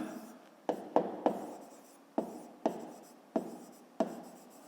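Writing by hand on paper, heard as a series of about eight sharp pen taps and short strokes at an uneven pace, close and fairly quiet with no talk.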